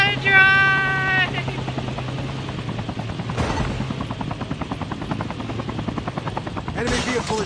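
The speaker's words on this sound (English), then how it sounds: "Oh, the helicopter." Helicopter rotor thumping in the Call of Duty Mobile battle royale, a steady pulsing chop running throughout amid bursts of game noise and engine drone, with a strong tone early on and a sharp burst near the end.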